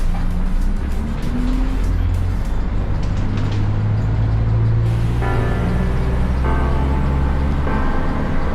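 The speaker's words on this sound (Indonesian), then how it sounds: "hari ini aku lagi di bus, yaitu bus gratis" Engine and road noise from inside a new free public bus driving around Bali between Denpasar and Kuta, a steady loud low rumble throughout with gear and engine tone shifts, no talk.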